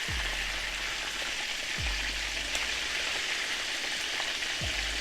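Fish fries in hot oil in an old pot, a dense, steady sizzle close by with a few low knocks as pieces are turned, no voices.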